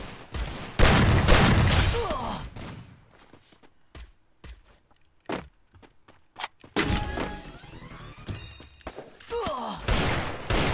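Gunfire in the mobile shooter Free Fire, played on an emulator: bursts of loud shots and thuds come in clusters with quiet gaps between them, and a voice speaks briefly.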